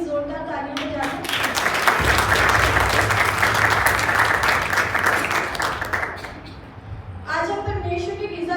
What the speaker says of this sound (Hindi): एक बार अपने लिए जोरदार तालियां बजा दो।